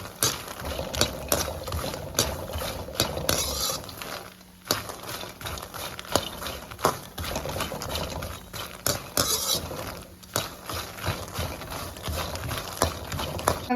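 Fox nuts (makhana) roasting in a pan, stirred continuously with a spatula in a home kitchen, giving steady close scraping and rattling with dense patter-like crackle throughout.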